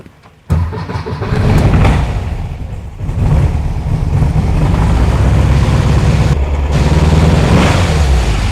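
A 1964 VW Beetle engine fitted with Empi dual carbs fires up abruptly and runs loud and close, holding a rough, throaty drone with a brief dip in revs partway through.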